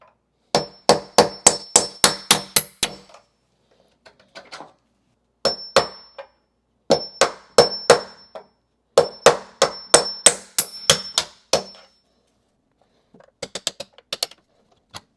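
Rapid bursts of sharp metal-on-metal tapping as a nail set drives a hinge pin out of a door, close and crisp, in quick runs with short pauses, plus a few lighter clicks.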